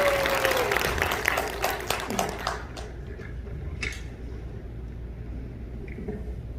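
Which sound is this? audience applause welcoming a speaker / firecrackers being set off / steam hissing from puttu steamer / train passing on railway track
audience applause welcoming a speaker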